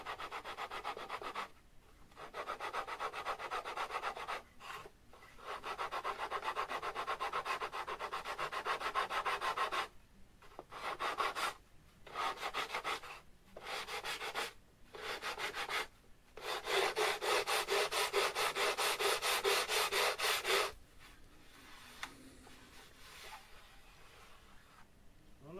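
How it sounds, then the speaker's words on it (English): Wood being sanded by hand in a workshop, a steady abrasive rubbing in long strokes broken by short pauses, close and fairly loud with no talk. "must be very careful when we sand that down"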